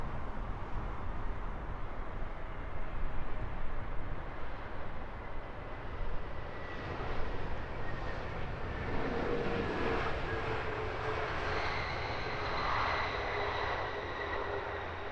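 A British Airways Airbus A321neo jet arriving at Heathrow on a flight from Istanbul produces a steady, rising engine roar and whine that grows closer and louder toward the end.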